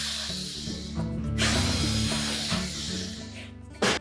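A tool works out the screws on the back panel of a Whirlpool range: close, loud, continuous ratcheting and mechanical whirring, with a brief louder clatter at the end.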